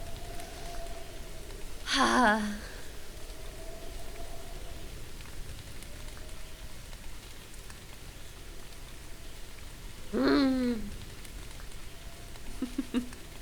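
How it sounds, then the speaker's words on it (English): Rain falls steadily in the video game The Moon Sliver, a soft, even hiss throughout, broken twice by short brighter sounds that rise and fall. "I like the sound of the rain too."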